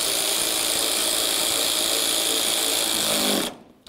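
Power tool, likely a cordless driver, running steadily to snug headlight mounting hardware on a 2007-17 Jeep Compass, a continuous buzzing whir at close range that cuts off abruptly near the end.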